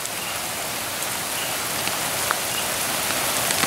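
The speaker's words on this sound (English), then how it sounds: "It's starting to rain a little bit." Steady rain from Hurricane Irma patters on a surface, a dense even hiss with scattered louder drops, no voices.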